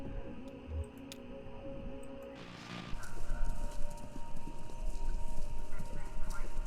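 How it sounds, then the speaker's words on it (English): Horse hooves clip-clop in the video game Kentucky Route Zero, a steady run of hoofbeats growing louder and busier partway through, like several horses racing past, with no talk over them. "Sounds like horses."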